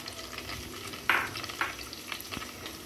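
Chopped onion frying in hot oil for a catfish dopiaza, a steady close sizzle with a few louder crackles and stirring scrapes, no talking.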